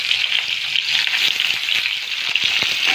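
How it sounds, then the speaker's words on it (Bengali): Pieces of fish frying one by one in hot oil over a high gas flame, giving a loud, steady, close crackling sizzle with small pops throughout and no voices. "এবারে একে একে মাছগুলো আমি ভেজে নেব।"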